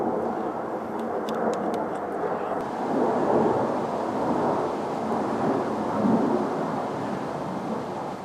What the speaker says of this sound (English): that was a flight of 4 F-18s